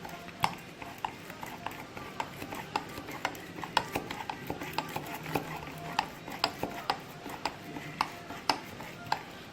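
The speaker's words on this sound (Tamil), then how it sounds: "நல்லா அப்படியே மசிச்சு எடுத்துக்கோங்க" Ripe banana being mashed by hand in a bowl for sweet bonda, a run of soft squelching presses and light taps of a utensil against the bowl, steady and close in a quiet kitchen.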